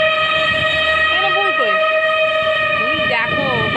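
A train passing with a loud, sustained horn blaring steadily throughout, close and dominant, while a voice speaks over it.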